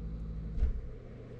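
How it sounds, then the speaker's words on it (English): Air conditioner running in an apartment, a steady low hum and rumble in the background with a brief swell partway through, no voices. "The sound you hear behind in the background is my air conditioner."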